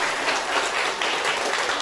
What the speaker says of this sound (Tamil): ஜோர கைதட்டுங்க